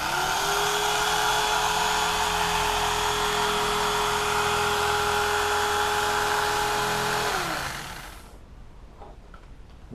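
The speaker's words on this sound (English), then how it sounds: "This whole Black & Decker thing is fantastic for going through this foam." A Black & Decker power tool cuts steadily through foam while rebuilding a boat headrest, a loud continuous motor whine with a constant pitch that winds down and stops near the end, leaving a quiet room.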